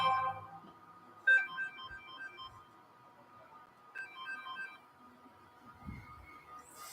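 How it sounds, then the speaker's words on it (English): A phone ringtone goes off at a baseball game between Sierra and Sac City, two short bursts of chiming electronic tones ringing out over steady wind noise, with no talk in the clip. "Phone ringer going off."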